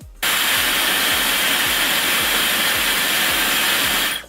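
A Dyson Supersonic hair dryer switches on abruptly and blows with a loud, steady whoosh for a few seconds before cutting off.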